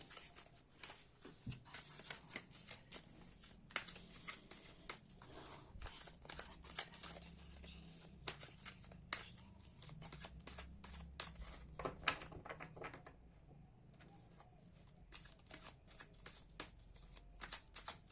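Tarot cards are shuffled by hand for a card reading, giving soft, close riffling and flicking in quick irregular bursts. It stays quiet throughout, with a brief pause before the shuffling resumes.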